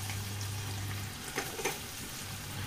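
Raw prawns fry in a pan with a steady, close hiss of sizzling oil, a few louder pops and stirring scrapes rising midway, and no talk.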